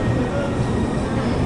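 Vijayawada shed locomotive 39175 hauls a passenger express, heard as a steady, loud rumble of rolling wheels and carriage noise from on board, with faint voices underneath.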